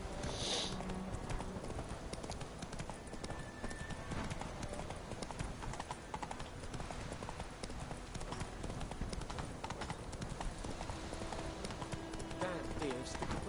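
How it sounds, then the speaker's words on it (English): Horse hooves clip-clop in The Witcher 3 as the mount trots in a steady, continuous rhythm. Game ambience runs underneath and voices are present. "It's my horse."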